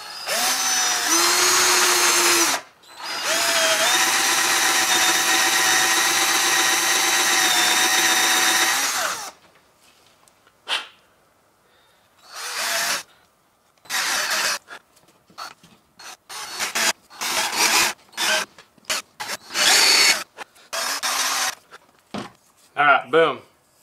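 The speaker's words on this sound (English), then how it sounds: "we're gonna drill our main two holes right dead center in the middle of the belly right here" Power drill boring two holes into the belly of a real shad fish for a glide bait, a steady loud whine with shifting pitch for about nine seconds, then short bursts and scraping sounds with pauses.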